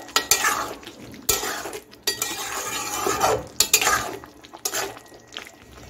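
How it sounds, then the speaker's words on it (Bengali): Ghugni of peas, spices and garam masala being stirred in a pan, a spoon scraping and clinking in repeated bursts with brief pauses, close and fairly loud, with a faint sizzle underneath. "দিয়ে এখন সব কিছু ভালো করে মিশিয়ে দিচ্ছি।"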